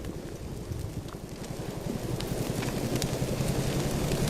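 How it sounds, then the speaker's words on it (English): A hillside wildfire roars with a dense, continuous crackling and popping that swells gradually in loudness, close and unbroken, with no voices. "maybe you can hear the crackling and the popping of this fire"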